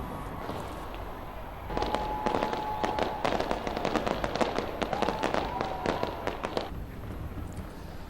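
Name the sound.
New Year fireworks in Auckland, New Zealand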